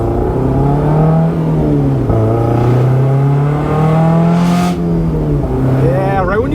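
A Honda S2000 exhaust with wider-diameter piping revs up and down through several climbs, loud and close, turning raspy above about 5,500 RPM before settling.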